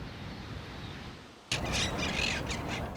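Gulls on Coney Island beach in winter squawk and call repeatedly over steady wind and surf noise, with several overlapping cries close by.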